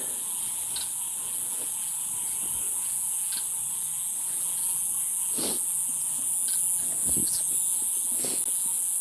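Loud crickets chirp at night in Florida, a dense, steady high-pitched drone that fills the whole clip, with a few brief clicks and rustles close by.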